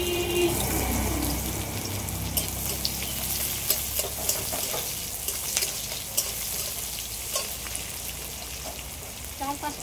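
Chopped ginger, onion and slit green chillies frying in a pan, with a loud continuous hiss and sizzle and small intermittent clicks of stirring throughout.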